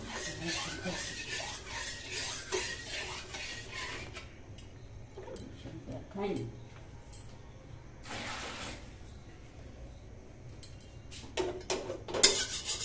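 A kadai (wok) is rinsed with water, giving splashing and running-water bursts along with clanks and scrapes of metal, heard close in uneven spurts with quieter gaps between them.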